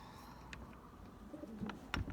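Pigeons in a loft, soft low cooing with a few faint wing flutters and shuffles, close but quiet.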